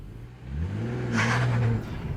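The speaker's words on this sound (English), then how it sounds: "Punch the starter button, get ready to set off" BMW 2 Series Coupe engine firing up and revving, a short cranking start followed by a rising rev that swells, holds briefly, then settles back, close and loud.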